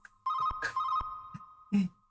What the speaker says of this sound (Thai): ใครจะรับเนี่ยโทรศัพท์ผี